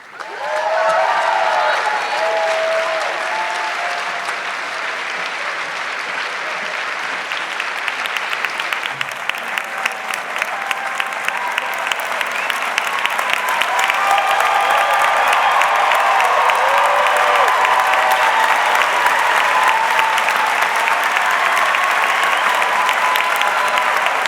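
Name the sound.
commencement audience applause and cheering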